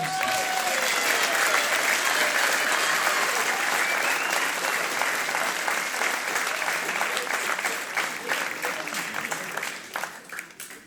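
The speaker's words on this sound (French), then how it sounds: "donc on peut l'applaudir à lui aussi" Warm, dense audience applause at a Corsican choral concert, a full crowd clapping steadily and then gradually thinning and fading toward the end.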